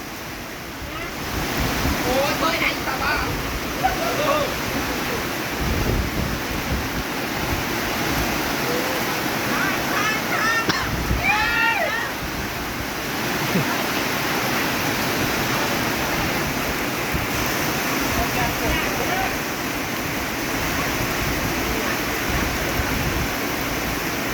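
Heavy rain pours in a steady, loud wash of noise, with occasional voices talking over it.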